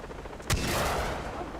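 A single sharp gunshot fired at a helicopter in the video game Far Cry 3, one loud crack followed by a rushing, noisy tail over constant background din.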